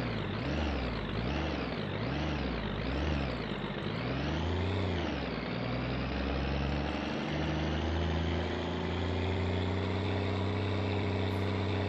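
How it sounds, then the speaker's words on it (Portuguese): Truck engine in the video game My Summer Car, droning loudly as its revs rise and fall in quick repeated surges, then holding a steady, slowly climbing hum. "Não deixa o giro do caminhão ficar muito alto,"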